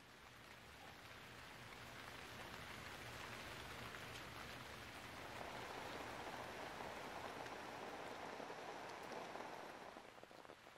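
Steady, soft rainfall patters continuously on surfaces, a dense even hiss that swells slightly midway, with no voices.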